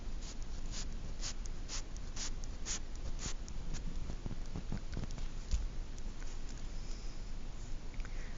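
Pen drawing lines on paper while graphing a rational function, a quiet run of short scratchy strokes in a fairly regular rhythm over low background hiss, with no talk.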